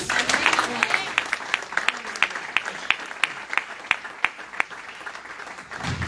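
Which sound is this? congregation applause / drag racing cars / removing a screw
congregation applause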